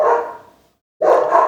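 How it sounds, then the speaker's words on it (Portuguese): A dog barks twice, loud and close, each bark a short harsh burst separated by a brief silence. "E o latido do cachorro está patralhando"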